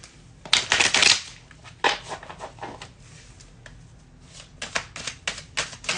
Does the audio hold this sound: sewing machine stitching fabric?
no